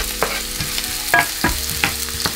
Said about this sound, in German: Unser Öl ist ebenso erhitzt, dann tun wir einfach unsere Zwiebeln schon mal hier rein.